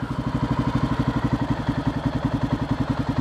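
A 1994 Honda XR650L single-cylinder engine runs close by with a steady, rhythmic thumping idle and mechanical clatter as the rider pulls in the clutch and clicks down a gear.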